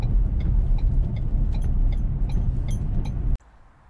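A Ford Ranger Wildtrak 2-litre bi-turbo pickup towing an Adria caravan, heard as a steady loud road rumble and engine drone that cuts off abruptly near the end.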